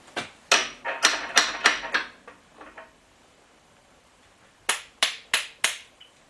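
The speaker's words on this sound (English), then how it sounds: "So we'll just switch over to a ratchet." Ratchet turning a bit off a GM 4.3 Vortec engine during teardown: two bursts of sharp, rapid clicks, four or five strokes each, close and fairly loud, separated by a quiet pause.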